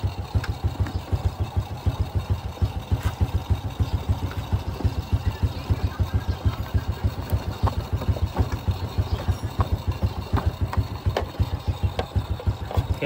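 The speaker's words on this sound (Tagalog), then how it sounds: "Pagpugak-pugak ng ating motor." A SYM Bonus motorcycle engine with a damaged air filter idles close by, putting out a fast, steady, slightly uneven low putter that runs on continuously with no talk.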